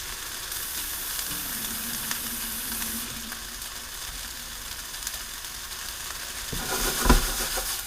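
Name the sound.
ground beef sizzling in frying pan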